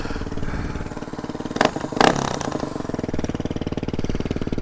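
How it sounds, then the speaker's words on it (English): A DR250S motorcycle fitted with a Dominator R exhaust idles with a loud, rapid thumping beat and is sharply revved twice, nearby and without talk. "But that is ridiculously loud. I mean, how can you sell an exhaust that loud?"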